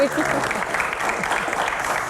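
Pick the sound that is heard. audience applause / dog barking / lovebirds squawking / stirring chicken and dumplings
audience applause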